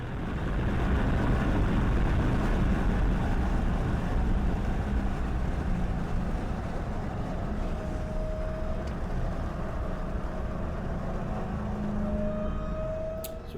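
Dodge Hellcat on the Watkins Glen race track, a loud, sustained engine roar running the whole time, rising in pitch as the car accelerates down a long straight, heard from inside with wind and road rumble.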